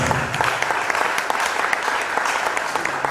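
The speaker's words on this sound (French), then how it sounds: "Je vous prie de l'applaudir très fort" Loud, sustained applause from a church gathering's audience, dense and even clapping with sharp individual claps standing out, no voices over it.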